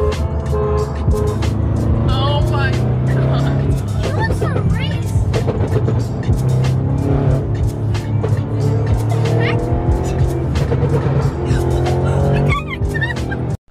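A car racing a police officer, engine roaring at speed with squealing tires and skids, loud and continuous, with voices talking over it.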